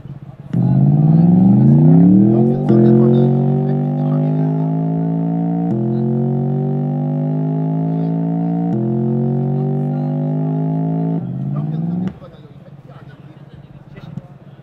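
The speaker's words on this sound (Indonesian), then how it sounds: "Ya, jadi itu tadi sampel suara mesin V8 Twin Turbo si GWM." A digital sample of a GWM 4,000 cc V8 twin-turbo engine plays loudly and close for about eleven seconds. It climbs in pitch through several stepped revs like gear changes, then cuts back to a quiet background.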